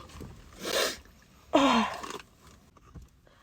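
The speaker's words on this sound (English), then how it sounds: "Did you sneeze on me?" A person sneezes toward someone else as a prank: two loud bursts of breathy noise in quick succession, the second sharper with a voiced cry, fading into quiet room sound.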